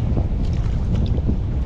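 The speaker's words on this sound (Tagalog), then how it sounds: "mulusok na naman ang hangin" Strong north wind gusting over the sea aboard a boat, a loud continuous roar and buffeting rumble against the microphone with no pauses.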